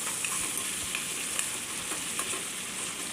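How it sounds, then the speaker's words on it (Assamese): Masala sizzling and frying in a pan while being stirred, a steady close crackle with small scraping accents and no talk, heard while cooking a spiced local fish curry. "মছলাখিনি মোৰ ৰেডি। তাক ভালকৈ লৰাই দিছোঁ।"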